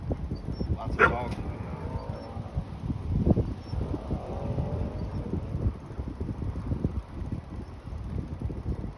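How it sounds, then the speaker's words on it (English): Dogs bark at a homeless encampment in Berkeley, California, a few sharp barks and yips at moderate distance among wind noise on the microphone and people talking nearby. "Lots of dogs."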